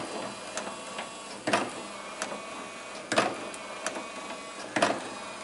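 An electric motor on a Camaro, just running again after a loose connection was fixed, cycles with a faint mechanical whir and a regular clunk roughly every second and a half. Quiet and close, with no speech.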